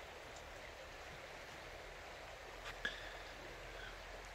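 Muddy Kondoma river in Tashtagol, swollen by rain, rushes past beneath a suspension bridge as a steady, soft broadband wash of flowing water, faint and even throughout, with one brief small knock near the end.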